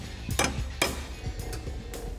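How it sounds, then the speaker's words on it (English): Sharp metallic hammer strikes on steel plate, bent around the curve of a 1955 Ford F100's side plates, ringing out at an uneven pace, a few hard hits among lighter taps, over low background rumble. "work it around the curve in the side plates using a good old fashioned hammer"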